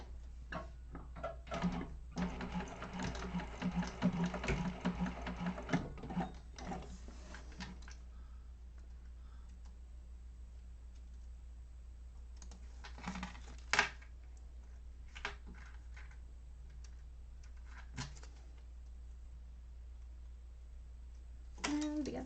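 A sewing machine bastes the sides of a fabric organizer bag, running in a dense rattling burst for several seconds, then falling quiet apart from scattered clicks and small handling knocks.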